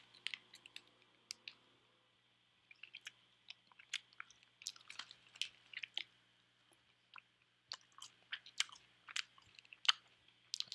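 Someone eats dried fish strip snacks, chewy bites with soft, irregular crunchy and wet chewing sounds close to the mic, coming in bursts with brief pauses and no talking.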